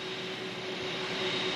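A jet airplane carrying the State of Qatar delegation roars steadily at an airport in Bahrain, a loud, even engine wash with a faint steady whine on top and no voices.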